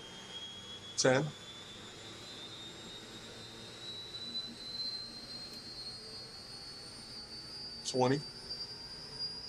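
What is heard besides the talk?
army helicopter turbine engine starting, rotor spinning up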